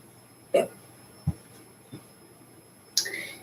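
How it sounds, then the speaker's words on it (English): Four short hiccups spaced unevenly over a few seconds, close and fairly loud against a quiet room, with no talking. "Yes, I get the hiccups sometimes."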